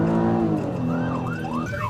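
A police car siren wails during a pursuit, rising and falling in sweeping tones over a steady low vehicle drone, loud and continuous with no voices.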